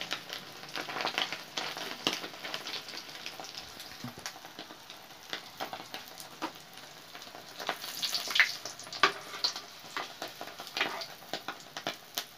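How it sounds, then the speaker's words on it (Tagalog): Shrimp fritters with grated carrot bubble and sizzle steadily in hot oil, giving a continuous, close crackling hiss scattered with tiny pops and no voices. "Daming bubbles, aliwaros. May bubbles talaga basta mantika."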